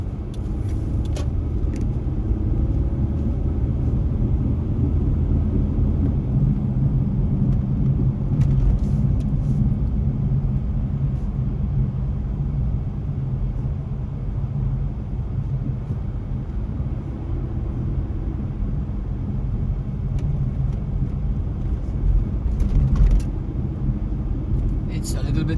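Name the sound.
truck driving on highway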